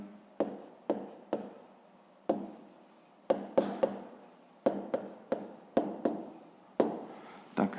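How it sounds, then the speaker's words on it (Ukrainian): Pen writing quickly on paper during a fifth-grade maths exercise, a run of short scratchy strokes in uneven bursts, close and fairly quiet, with no talking. "записуємо відповідь, пишемо відповідь"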